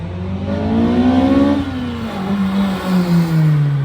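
An Acura RSX Type-S engine with a short ram cold air intake revs hard, its pitch climbing steeply into VTEC, then drops briefly at a shift and pulls up again, loud and close.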